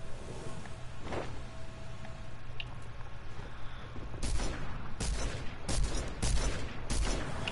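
Video game gunfire in a duos match: scattered single shots early on, then a cluster of sharp, loud bursts near the end, fired in quick succession over a steady game background with no talking.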